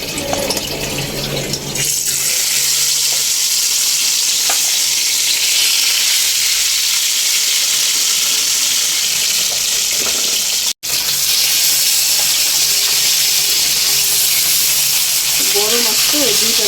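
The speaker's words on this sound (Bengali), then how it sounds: "তো এই তো আমি এখন এই মাছগুলো ভেজে নিব।" Fish marinated in spices for about an hour and a half frying in oil in a pan, a steady loud broadband sizzle running almost the whole time, with a brief cutout near the middle and a few faint bits of other noise at the start and end.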